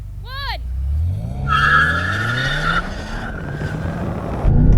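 A BMW M5 launches hard in a drag race with a loud engine rev and tire squeal, the motor climbing through gears amid a whistling whine, with a voice briefly over it.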